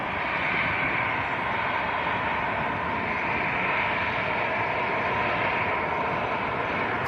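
A Qatar Airways airliner from Doha at Manchester Airport gives off a steady, moderately distant jet engine roar with a broad hiss that swells slightly and holds throughout, with no talking.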